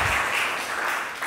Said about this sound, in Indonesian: Mungkin bisa kita beri tepuk tangan sekali lagi untuk para finalis kita.